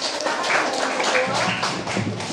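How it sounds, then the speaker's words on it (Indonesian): Classroom applause from a group of children, a brisk, continuous patter of many small hands clapping close by for a couple of seconds, with a voice audible under the clapping. "tepuk tangan dulu untuk kita semua"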